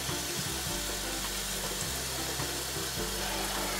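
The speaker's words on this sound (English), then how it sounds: "you should really fill up this big pot with lots of water" A tap runs steadily into a big pot, a loud, continuous close rush of water filling it without pause.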